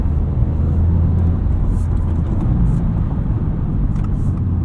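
Inside a 2025 Subaru WRX tS on the move, a steady low engine and road rumble fills the cabin, fairly quiet and even, with no voices.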